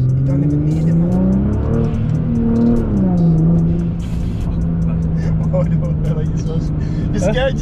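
An 800 bhp Nissan GT-R driving, its engine note rising and falling through gear changes in a loud, steady drone heard from inside, with voices talking over it.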